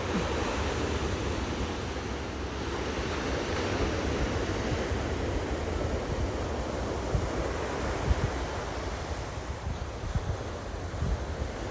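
Steady wash of sea waves breaking on a shore, with broadband surf noise and some wind buffeting throughout, no voices.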